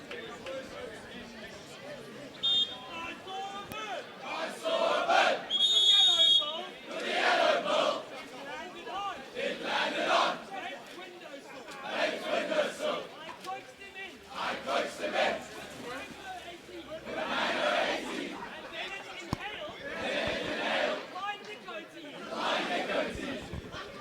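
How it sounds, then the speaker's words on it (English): Bishops school supporters cheer and chant at an under-19 water polo match against Rondebosch, a loud, continuous crowd roar rising and falling in repeated surges with shouted voices throughout. "The Bishop's crowd still with lots of spirit, making a lot of noise, backing their boys."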